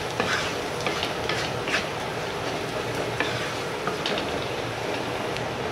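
Bitter gourd (karela) sabzi with coriander powder and garam masala gets stirred in a pan, a continuous scraping and soft sizzling texture with scattered light clicks throughout, no voices.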